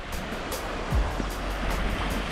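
Waves wash onto a beach in Grand Cayman on a clear day, a soft, steady surf hiss with gentle swells, fairly quiet and with no one speaking.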